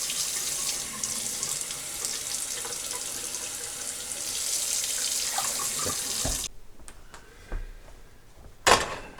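Tap water runs from a faucet into a pot being filled for rice, a steady close splashing stream that cuts off abruptly near the end, followed by a couple of brief knocks and clatters.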